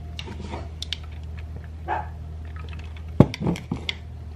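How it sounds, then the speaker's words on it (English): A house dog barks a few short, muffled times in a kitchen, fairly close, among faint clinks and rustling over a low background hum. "My dog's barking."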